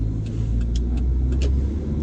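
A 3-seater farm truck drives along with a steady low engine rumble and road noise, plus faint higher rattles, no voices.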